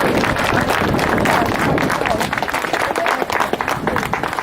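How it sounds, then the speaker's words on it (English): A crowd at a drift challenge final cheering and clapping loudly and continuously, a dense roar of applause close up. "Can you give them a big cheer please,"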